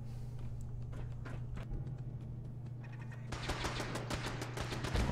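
Automated gun turrets in the video game Fallout 4 open fire in rapid bursts of repeated shots, growing denser and louder partway through over a steady low hum.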